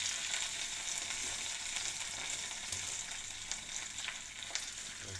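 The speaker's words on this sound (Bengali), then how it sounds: "কড়াইয়ের মধ্যে শাকগুলো আমরা দিয়ে দেবো।" Red amaranth greens fry in a hot wok with a steady, dense sizzle and crackle that holds evenly throughout, close and continuous, with no voices.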